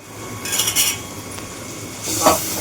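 Tomatoes are stirred and sautéed in a pan in a home kitchen, with a few close scrapes and clinks of a spoon against metal over a low background hiss, brief and fairly loud.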